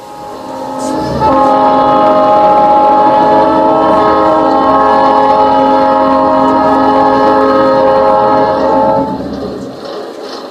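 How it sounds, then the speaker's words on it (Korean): A loud, sustained train horn blares for about eight seconds over a low rumble of a running train, heard alone within a stage play about Korea's 1919 March First independence movement. "이 기차 소리가 어떻게 들려?"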